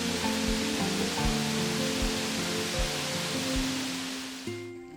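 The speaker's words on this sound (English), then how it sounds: "Up close, the water was roaring over smooth rocks and the noise filled the air." A mountain waterfall in the rain in the Czech Republic roars over smooth rocks, a steady broad rushing wash heard up close, with faint low rhythmic thumps beneath and the sound dropping away at the very end.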